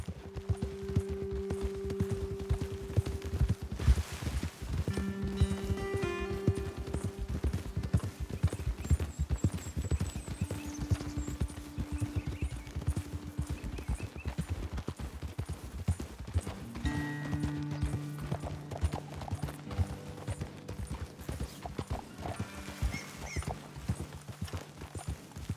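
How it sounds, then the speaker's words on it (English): Horse hooves in Red Dead Redemption 2, heard during riding: steady clip-clop beats from a trotting horse at moderate distance, with a brief whinny and faint background sounds, no talking over it. "Okay, let's dismount here. Best leave the horses back a bit."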